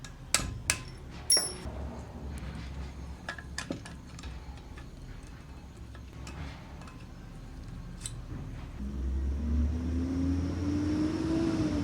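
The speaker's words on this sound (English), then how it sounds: "use a hammer and chisel to make a fracture on the inner race" A hammer drives a chisel against the inner race of a front wheel bearing on a 2005 Acura TSX, giving a few sharp metallic strikes early on, then sparse lighter taps, with a low rumble rising near the end.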